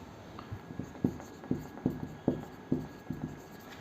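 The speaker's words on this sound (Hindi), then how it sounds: "उसके बाद आगे का हम नीचे लिख लेते हैं" Pen strokes on paper as notes are written out, a faint series of evenly paced scratchy taps about twice a second, close and quiet.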